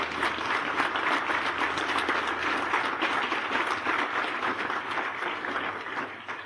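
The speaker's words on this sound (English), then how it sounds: "Let's give them a round of applause as well." Audience applauding veterans at a Key to the City ceremony for a Medal of Honor recipient, a steady, dense wash of many hands clapping that holds loud throughout before easing slightly at the end.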